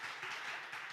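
Audience applause at a women's leadership summit honoring a James Beard nominee. A brief, soft, dense wash of clapping from many hands, with no voices over it.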